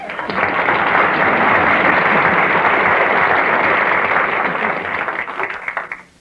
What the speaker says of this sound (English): Why, that's applause for you, Ned.